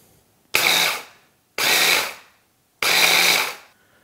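Immersion blender whirring through breadcrumbs in a container, three loud bursts of about a second each separated by short pauses, close and with no talking.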